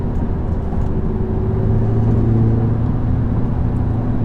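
A 2008 Audi TTS engine heard from inside while driving, a steady low droning hum with road noise that rises slightly midway as the car pulls.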